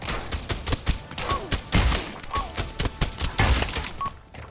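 Rapid gunfire from a VR shooter video game plays on Quest 3 headset with an Intel Arc A770 card, loud close bursts of shots cracking in a quick irregular stream with a few bright pinging hit effects in between.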